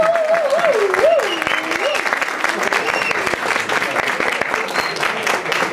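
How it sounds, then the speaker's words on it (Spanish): Audience applause for the panelists at a cumbia music and dance discussion event in Bogotá, a dense steady clapping that carries through the whole stretch while a voice sings or calls out over it early on. "Un aplauso, por favor,"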